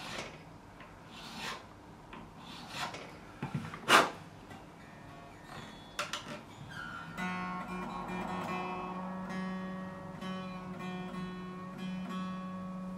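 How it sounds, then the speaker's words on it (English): Filing the string slots in the nut of a Gibson Les Paul BFG Gator guitar: short, close rasping strokes in uneven bursts with one sharp scrape, followed by a sustained ringing string tone. "So nut slots are now all cut."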